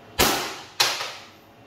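Two sharp, close pops from a Crosman or Daisy 12-gram CO2 air pistol, each a hard crack with a short hissing decay, spaced about half a second apart.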